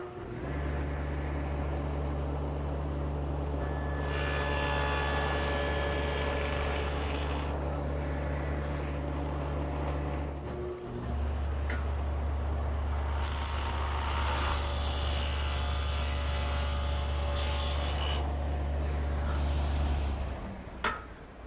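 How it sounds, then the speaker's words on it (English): A table saw fitted with a stacked dado head cuts a groove in wood. A steady loud motor hum runs throughout, rising into a harsh cutting whine over two long passes, with a brief dip between them. "I've set up my dado head cutter in the table saw, a stacked dado head"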